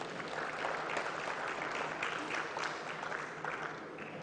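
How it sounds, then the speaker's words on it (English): A large audience at a national dialogue on small-scale mining in Ghana bursts into sustained, even applause that holds at a steady level throughout, with dense overlapping claps and no voices above it. "You may another resounding round of applause"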